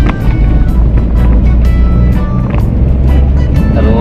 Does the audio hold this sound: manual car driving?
yes